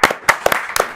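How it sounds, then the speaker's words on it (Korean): Short, scattered hand claps from an audience, a few loud separate claps over about a second, close and without talk. "박수 주잖아요"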